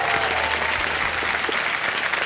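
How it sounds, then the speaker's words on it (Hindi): Studio audience applause on the Kaun Banega Crorepati quiz show after a contestant quits the game with 25 lakh rupees, a steady dense wash of clapping held throughout at even loudness. "25 लाख रुपए जीत रहे हैं, तालियां बजाएं"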